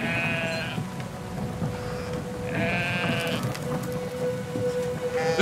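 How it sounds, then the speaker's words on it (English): Sheep bleat repeatedly in the video game Brothers: A Tale of Two Sons, several drawn-out calls standing out over a steady game music bed with a sustained tone. "Oh, more sheep are coming out."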